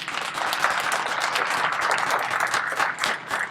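Brief burst of applause from a small audience at a police promotion ceremony, steady clapping for a few seconds with no talk over it.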